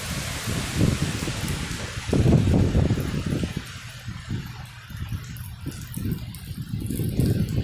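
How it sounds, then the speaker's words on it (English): Strong gusts blow during a Pacific Northwest windstorm in Oregon, a rough, roaring rush that swells and eases in waves, with rustling and rain-like hiss in the background. "But the wind's blowing all kinds of directions."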